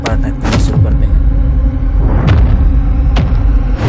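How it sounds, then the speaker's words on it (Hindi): A loud, deep explosion from an action drama rolls out as a sustained, heavy rumble, with booming low thuds swelling and fading over several seconds. "एक जोरदार धमाका होता है।"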